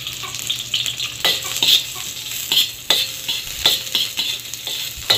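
Onions go into hot cooking oil in a pan, giving a loud close sizzle punctuated by clinks and scrapes of a utensil stirring.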